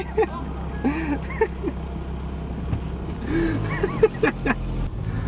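A car driving slowly toward a parking lot, a low steady engine and road rumble heard from inside, with people talking over it.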